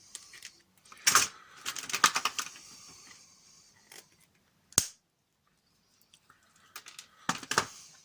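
Plastic parts of an X-Shot Dino Attack Claw Hunter blaster are cut with cutters. Sharp clicks and snips come close up in short bursts, with a loud single snap in the middle and quiet gaps between.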